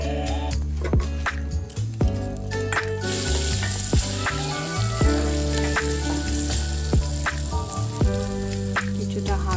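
Sliced garlic fries in a pan for Indian-style chicken soup, giving a loud crackling sizzle under strong background music with sharp clicks and scrapes throughout.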